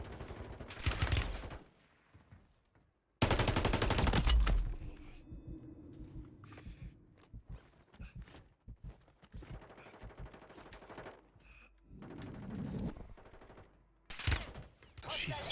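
Sniper rifle and automatic gunfire in a shooter video game on Rebirth Island, with loud bursts of shots separated by quieter stretches of footsteps and game sounds, and a voice talking in places.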